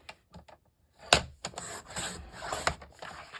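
Paper pieces being cut to size for a scrapbook album with a paper trimmer, a few soft scrapes followed by a sharp slicing rasp and several rubbing, sliding strokes close by.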